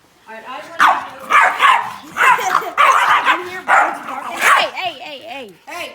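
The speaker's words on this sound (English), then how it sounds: "I never hear dogs bark." A dog barks repeatedly in close, loud bursts, mixing yips and whimpering whines, while a person talks over it.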